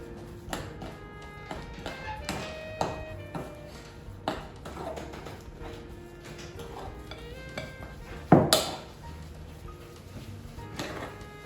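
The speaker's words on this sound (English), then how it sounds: "we're gonna go ahead and mix that in there" Muffin batter for vegan chocolate zucchini muffins being stirred in a bowl, with light repeated taps and scrapes of the utensil against the bowl, fairly quiet and irregular, and one louder clatter near the end.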